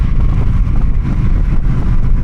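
A Honda Shadow Phantom 750 cruiser with its stock exhaust pulls hard while riding, a loud low engine rumble blended with heavy wind buffeting.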